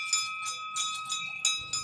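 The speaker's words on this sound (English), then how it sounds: "the bell rings inside Amigos de Dundas for every Portuguese goal" Bright metallic bell in a Portuguese bar, Amigos de Dundas in Little Portugal, struck in about five quick clangs with a ringing tone that hangs between strikes after a goal.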